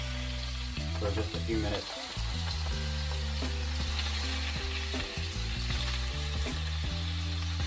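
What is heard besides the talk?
lingcod fish searing in a pan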